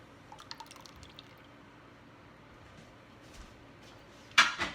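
Glass canning jars are handled with a jar grabber in hot water while sterilizing for canning green beans. Faint drips and light clinks come first, then one sharper glassy clank with splashing near the end, in a quiet room.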